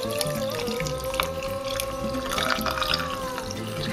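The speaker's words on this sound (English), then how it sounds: "just pour it right on in the cup." Strongly brewed yerba mate from a coffee maker is poured into a cup, a steady close liquid stream running continuously with a faint tonal ring, no voices.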